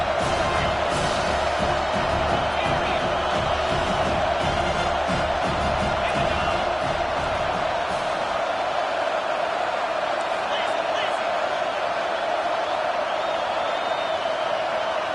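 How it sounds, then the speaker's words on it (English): Stadium crowd roaring in a college football video game, a dense sustained cheer with whoops and clapping that thins out midway, running under continuous play-by-play commentary. "This crowd knows when to bring it."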